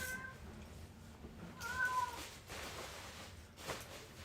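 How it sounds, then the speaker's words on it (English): A house cat meows indoors, a few soft, drawn-out calls close by over a steady low room hum, with no talking. "What do you want, cat?"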